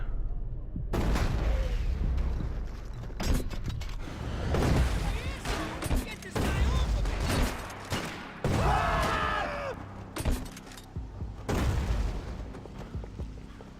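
Rapid gunshots crack and boom in the Max Payne 3 video game, dense volleys clustering into loud bursts across the stretch with short pauses between, while someone talks over parts of the shooting.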